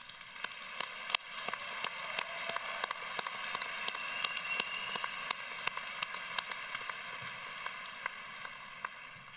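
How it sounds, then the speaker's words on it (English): A graduation audience at a 2024 commencement gives a round of applause, heard as a fairly faint, distant wash of scattered claps with sharper individual claps standing out, steady throughout. "let's thank your friends, your family, and your supporters with a round of applause"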